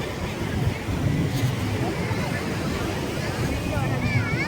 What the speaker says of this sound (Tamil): நல்லா சில்லுன்னு அடிக்குது காற்று